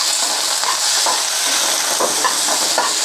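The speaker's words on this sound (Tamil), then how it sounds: "இந்த ஸ்டேஜில் வெங்காயம் போட்டுக்குவோம்." Onion, dried red chilli and curry leaves stir-fried in a pan for beetroot poriyal, giving a steady close sizzle with soft scraping stirs throughout, no talking.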